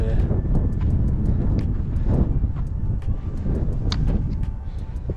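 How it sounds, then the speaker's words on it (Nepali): Strong wind roars and buffets the microphone in a constant low rumble, with scattered faint clicks above it, on the Manaslu Circuit trek in the Himalayas. "हावा डेन्जर आएको छ गाइस"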